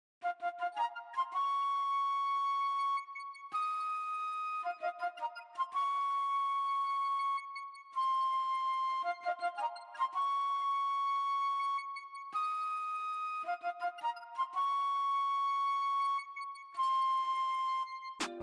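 A breathy alto flute plays a repeating melodic pattern of quick note groups, looping several times with short gaps between phrases.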